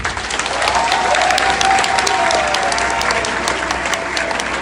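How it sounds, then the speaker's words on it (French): A large audience claps loudly and continuously, a dense wash of applause that swells slightly and holds throughout. "Il faut l'applaudir."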